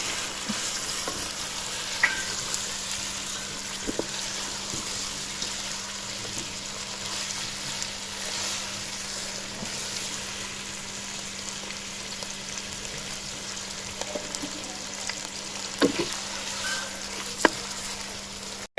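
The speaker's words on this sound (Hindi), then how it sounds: "तकरीबन 1 मिनट हम इसको ऐसे ही फ्राई करेंगे प्याज के साथ" Chopped onions fry with ginger garlic paste in a pot for an aloo gosht curry, a steady close sizzle with occasional crackles and pops over a faint background hum, no talking.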